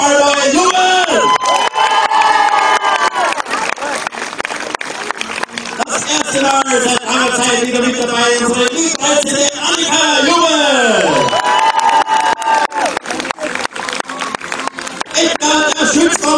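A crowd at a medieval festival tournament in Riegersburg cheers loudly and continuously, with whoops and shouts rising in waves and clapping underneath.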